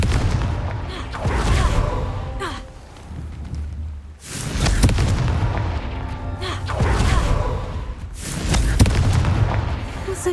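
Confringo blast spells in Hogwarts Legacy burst in several loud, close explosive booms at irregular intervals, mixed with crackling debris and game combat noise.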